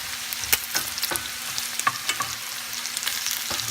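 Fried rice for spamsilog sizzles steadily in a pan while a spatula scrapes and taps through it in irregular strokes, close and moderately quiet, with no voices.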